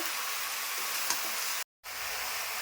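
Masala for a jackfruit and prawn curry sautés in a pan with a constant close sizzle and a faint tap. The sound cuts out for an instant, then resumes.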